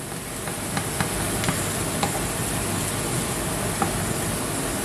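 Onions sizzling hard in a pan after white wine is added to deglaze, a steady loud frying hiss with a few small clicks of a utensil scraping the pan.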